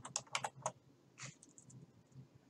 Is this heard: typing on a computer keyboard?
yes